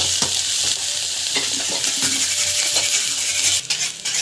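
Lentils and turmeric sizzling in a pan as the tempering for lemon rice, with a constant loud crackle and a spoon scraping and clinking against the pan throughout.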